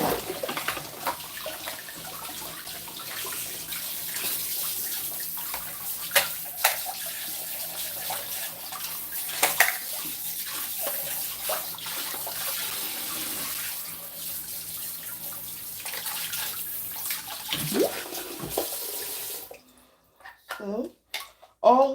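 Tap water runs steadily into a kitchen sink for about twenty seconds, a continuous close splashing wash, then cuts off, leaving a few brief knocks and handling sounds.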